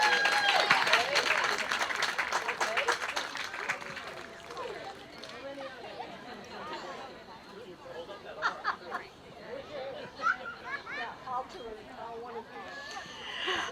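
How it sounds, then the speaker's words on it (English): An outdoor gazebo concert audience applauds the Canton American Legion Band's percussion section, with brisk clapping strongest at the start and then thinning into scattered claps, crowd chatter and talk. "how about a round of applause for the percussion section"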